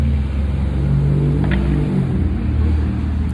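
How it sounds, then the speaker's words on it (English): A loud car passes by outdoors, its engine a steady, heavy rumble that fills the whole stretch without any voices. "Look at this loud ass car pass by"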